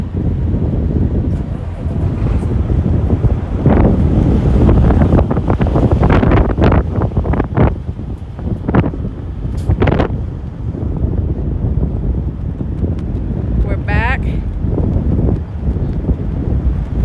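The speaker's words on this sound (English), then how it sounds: "Very windy." Strong wind buffets an outdoor microphone on a roadside during a truck convoy event, a steady loud roar with gusty surges throughout and brief voices heard faintly through it.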